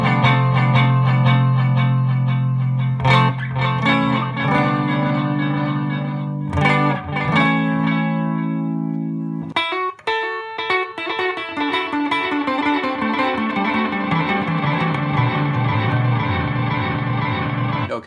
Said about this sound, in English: This is reverb and delay right here.